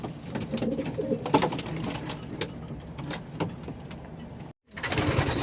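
Pigeons coo nearby in soft, repeated throaty calls over a background of shuffling and rustling, broken by a brief moment of silence near the end.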